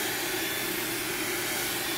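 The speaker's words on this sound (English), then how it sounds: "Taking just any old household blow dryer" An ordinary household blow dryer runs continuously, a steady loud airy whoosh with a low motor hum and no breaks throughout.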